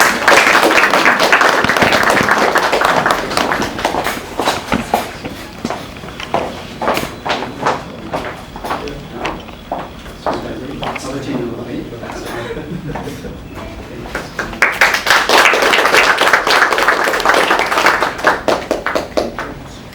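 Audience applause for a certificate recipient at a Federation of Canada Nepal Chamber of Commerce business networking workshop: a loud, dense burst of clapping opens, gives way to quieter spoken moments, then a second full swell of clapping closes.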